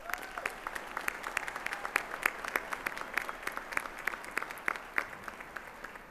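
A graduating audience applauds students at the 2015 UTPA spring commencement ceremony: steady, fairly distant clapping from a large crowd, sustained throughout without a break.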